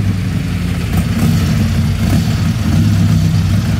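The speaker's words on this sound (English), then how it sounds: "Sorry, this Monza is really loud." A 1950s Ferrari 750 Monza race car at the Pebble Beach Concours runs nearby, loud and continuous, with a deep, throaty steady engine drone and slight swells in revs throughout.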